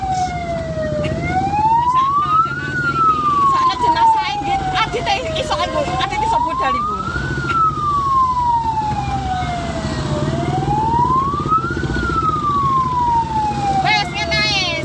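An ambulance siren wailing in slow rising and falling sweeps, loud and continuous alongside road traffic, while people talk nearby throughout.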